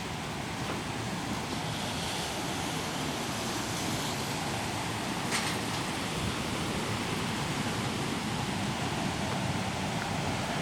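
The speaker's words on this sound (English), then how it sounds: "I'll show you where the water noise is coming from." Running water rushes outdoors under a spring tree, a steady, even hiss of flowing water at moderate level that barely changes over ten seconds, heard alone without voices.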